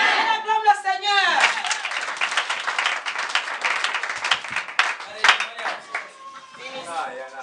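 A church congregation applauding, with brisk, sustained hand clapping mixed with voices calling out and singing over it, lasting throughout.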